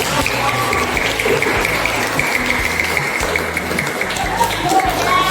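A classroom of students claps their hands together in a sustained, dense burst of applause that runs steadily throughout, with voices mixed in underneath.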